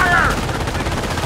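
Dense rattling gunfire in the World War II strategy game Company of Heroes, during the battle over Cauquigny at the causeway, loud and continuous for about a second with a voice calling out briefly over the start.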